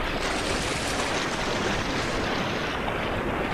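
Water crashes and splashes continuously as a herd of buffalo retreats through it, a loud, dense rushing wash with no talk.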